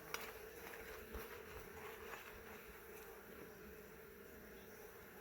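Honeybees buzzing in an open hive during a spring inspection, a continuous soft drone of many wings with faint crackles of bees moving over the frames, heard alone without voices.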